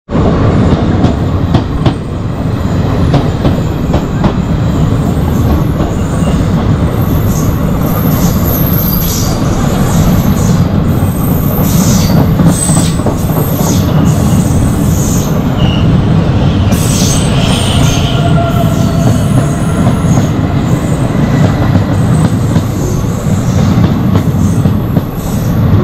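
Chemmozhi Express 16615, bound from Mannargudi to Coimbatore, moves through a station with a loud, continuous rumble of rolling wagons, rattling wheel clatter and occasional squeals, heard close and steady throughout.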